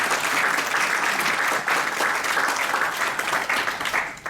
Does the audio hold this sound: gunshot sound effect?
no